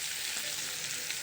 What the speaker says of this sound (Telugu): ఇప్పుడు తాలింపుని పచ్చడిలోకి యాడ్ చేసుకోవాలండి.